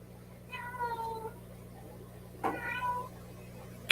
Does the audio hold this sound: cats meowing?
yes